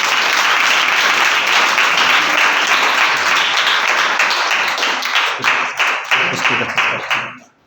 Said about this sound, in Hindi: क्या आप प्रभु यीशु मसीह के लिए जोरदार ताली बजा सकते हैं?